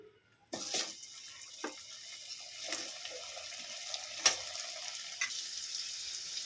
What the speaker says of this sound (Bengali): একটু হলুদ দিয়ে দেবো আলুগুলো ভেজে নেব